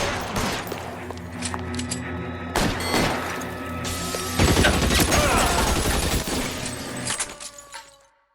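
Gunfire in the video game L.A. Noire, with a rapid volley of loud, overlapping shots and sharp impacts building to a dense burst midway before fading out.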